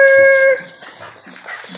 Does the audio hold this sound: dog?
yes